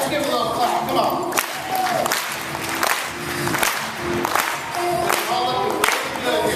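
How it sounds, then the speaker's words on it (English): A live audience claps and cheers at a cooking show, with steady crowd noise, scattered sharp claps and whoops mixed under the hubbub, and talk woven through. "Let's give a little clap."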